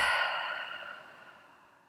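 A slow exhale through an open mouth, a soft breathy sigh that starts fairly clear and gradually fades away over about two seconds.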